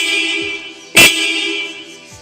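A single short, loud honk from an aftermarket horn on a 2020 Royal Enfield Bullet 350 BS6 motorcycle sounds once over a steady engine hum.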